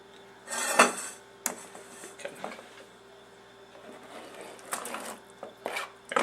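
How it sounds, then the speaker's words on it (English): Knife work on an avocado in a home kitchen: a few sharp clinks and taps against a bowl or board, separated by quiet gaps, close and fairly soft. "I'm going to put that into the bowl and start cutting up the avocado"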